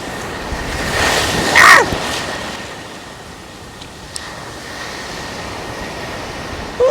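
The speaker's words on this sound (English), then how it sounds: "these waves are a little bigger than I thought they'd be" Surf rolling onto a beach during surf fishing, a continuous loud wash of breaking waves with heavy wind buffeting the microphone and a brief louder surge near the start.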